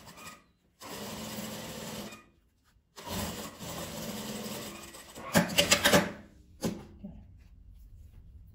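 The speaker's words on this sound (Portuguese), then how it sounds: "Agora eu vou começar a costurar." A sewing machine stitches pinned fabric scraps together for a patchwork landscape, running in a few steady bursts of whirring with short pauses and some louder clunks near the end.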